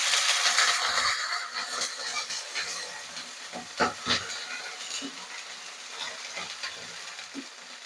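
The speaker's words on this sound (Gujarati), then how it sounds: "હવે આપણે 1 કપ જેટલું પાણી એડ કરીશું." About a cup of water poured into hot tempering of curry leaves and three large chopped green chillies, made for a batch of soft vati dal khaman, bursts into a loud, close steamy hiss that slowly fades, with scattered pops and clinks and no talk.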